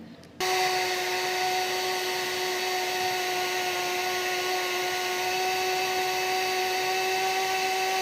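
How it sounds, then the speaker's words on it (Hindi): A blender grinds frozen strawberries and ice for a strawberry shake, starting abruptly and running at a steady, loud, high-pitched whine with a constant motor drone, with no one speaking. "अब इसमें इसको ग्राइंड करूँगी"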